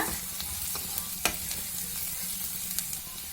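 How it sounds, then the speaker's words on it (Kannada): Onions and four green chillies frying in oil for chicken gizzard fry, giving a continuous close sizzle with scattered light spatula taps and scrapes. "ಎಣ್ಣೆ ಹಾಕಿ 4 ಹಸಿಮೆಣಸಿನಕಾಯಿ ಹಾಕಿ ಫ್ರೈ ಮಾಡ್ತಾ ಇದ್ದೀನಿ."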